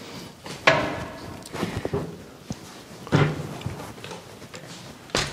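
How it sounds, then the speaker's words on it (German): Indoors, a door is pulled open by a short suction cup handle while someone steps backward with a rollator, giving scattered thumps, clicks and rattles of the walker frame, fairly close, with no talking. "Wenn ich jetzt aber den Saugnapf sehr kurz nehme, dann geht es durchaus, dass ich die Tür öffnen kann"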